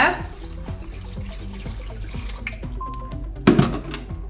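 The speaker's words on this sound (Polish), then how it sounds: "Wlewam teraz zimną wodę." Cold water pours steadily into a Monsieur Cuisine Connect cooker bowl with a running, splashing texture, followed by a brief louder clatter near the end.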